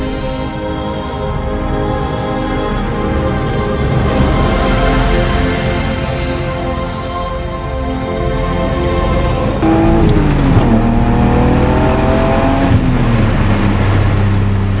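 A rear-wheel drive car's engine drones steadily, then at about ten seconds revs climb sharply as it accelerates hard, loud, close and without any talking.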